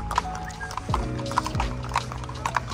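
A horse's hooves clip-clop in uneven, close steps alongside a brief whinny, with some background activity and faint voices.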